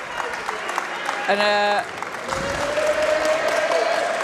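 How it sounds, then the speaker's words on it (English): Crowd applauding the winning U15 boys team at a North versus London final, a steady wash of distant clapping with a loud announcer's voice speaking over it and a brief whistle-like tone. "a huge round of applause for them as we await for the MVP to be announced"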